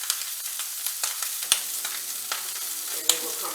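Salmon fillet seared skin-side down in a hot pan, a steady close sizzle with scattered sharp pops and spits and a few louder crackles standing out.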